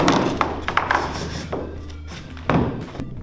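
A foot strikes a BMX tire in several dull thumps and taps, close up, with uneven spacing and a sharper hit near the end.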